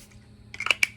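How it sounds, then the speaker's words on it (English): Makeup setting spray mists out in two or three quick, close hissing bursts, each short and soft, against a quiet room. "And then I'll use my setting spray."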